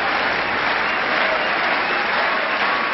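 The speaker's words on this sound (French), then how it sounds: "les applaudissements tout de même du court central pour Barbara au moment où elle s'apprête à servir cette première balle de match" Steady applause from the centre-court crowd at a Roland Garros tennis match, a continuous, even wash of clapping as a player prepares to serve match point.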